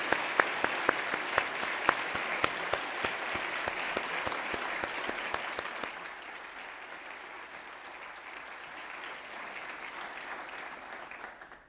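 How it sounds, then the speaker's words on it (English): Graduation ceremony crowd applauds the graduates, sustained clapping with crisp individual claps standing out early, then easing to a softer, more distant wash of applause that fades at the end. "please join me in giving our brilliant graduates a huge round of applause"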